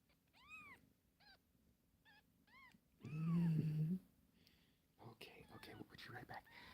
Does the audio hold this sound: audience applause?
no